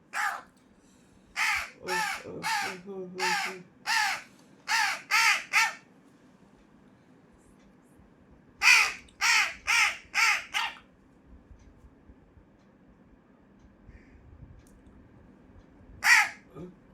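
Crows caw loudly and repeatedly in bursts of harsh calls, with pauses between groups and a final lone caw, over a low background hum.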